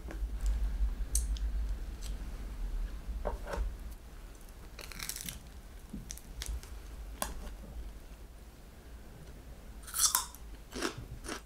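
A somewhat hard breakfast bread roll from a hotel breakfast buffet is chewed close to the ear, giving steady crunchy bites and squishy mastication with occasional sharper crunches and no talking.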